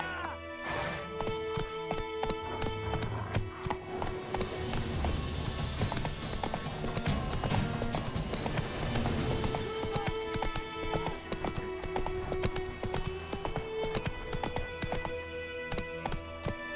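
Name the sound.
horse galloping in the video game The Witcher 3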